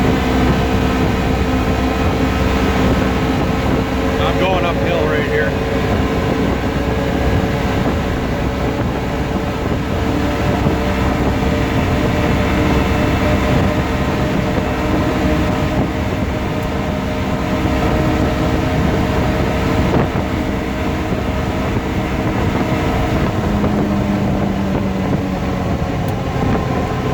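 A 2018 Polaris Ranger 1000XP UTV with an upgraded ECU and clutch kit climbs uphill, its engine droning loud and steady throughout, a continuous close mechanical roar with faint whine.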